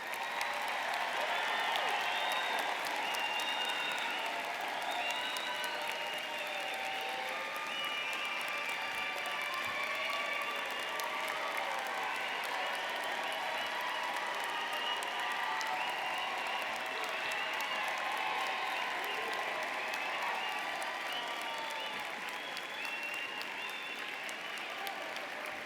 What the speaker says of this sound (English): So another round of applause for our graduates